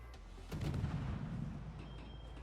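Guns fire from a Tier IX French destroyer, the Mogador, in World of Warships, sounding as a single muffled distant boom with a low rumbling tail, faint and alone against quiet game ambience.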